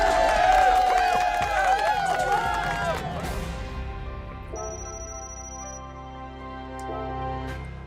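Crowd cheering from the Gran Turismo 7 race game after a Daily Race B at Road Atlanta, a busy roar with a bright electronic tone that tapers off, fairly loud and alone.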